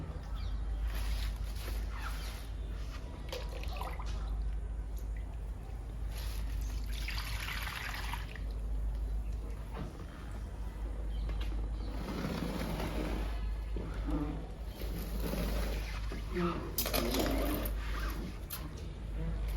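Homemade liquid fertilizer made from leaves trickles and dribbles onto indoor potted plants, including a money plant, in a steady soft splashing stream that comes and goes over a low background hum, with no talking.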